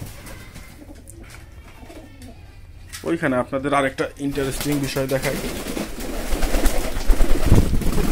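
Pet pigeons cooing in a coop, a few soft, rounded coos midway, close by, with someone talking over and around them.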